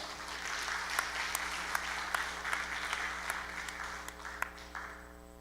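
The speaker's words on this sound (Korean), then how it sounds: "박수 보내주세요" An indoor audience at a membership-growth presentation breaks into steady applause, a dense wash of clapping with distinct sharp claps standing out, tapering slightly toward the end over a low background hum.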